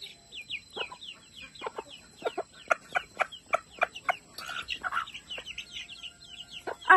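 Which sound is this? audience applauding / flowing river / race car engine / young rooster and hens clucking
young rooster and hens clucking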